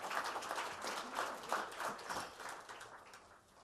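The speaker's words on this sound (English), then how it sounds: "So give yourselves a good round of applause." An awards ceremony audience claps for a few seconds, a dense patter of hands that is strongest at the start and gradually thins and fades.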